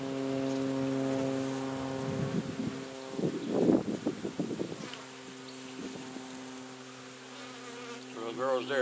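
Honey bees buzz steadily at a hive with a weakened colony, a dense drone close by with louder swells of individual bees passing near.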